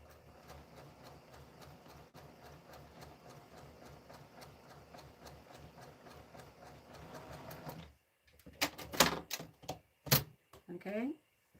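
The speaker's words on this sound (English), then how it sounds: "I'm going to go ahead and sew it right on top of the line" A sewing machine hums in a quick, even patter while stitching quilt pieces along a marked line, faint and steady for about eight seconds before it stops and louder clicks and a voice follow.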